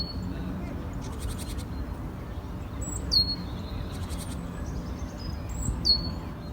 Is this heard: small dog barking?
no